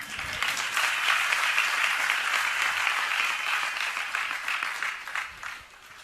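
An audience claps steadily through a sermon by a Jain monk in Shirpur, Washim, Maharashtra, a dense, even applause that holds for about five seconds and then thins out near the end. No one speaks over it.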